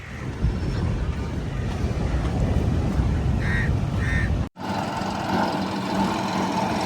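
A rough tractor engine chugs and rumbles nearby while launching boats into the sea, steady and heavy, then cuts off abruptly and leaves quieter background noise.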